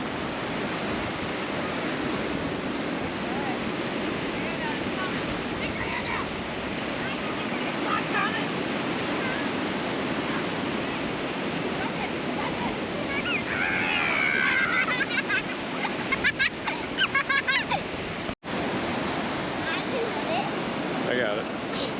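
Pacific Ocean surf breaking on the shore, a steady loud broadband wash of waves with wind buffeting the microphone, and voices briefly in the background.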